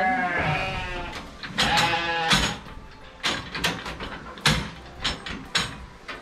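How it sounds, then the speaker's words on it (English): A ewe bleats loudly and close while being pushed into the head gate of a Lakeland sheep handling system, followed by clanking and knocking of metal gates and shuffling hooves. "Here's an example of a ewe that I just could not get in there."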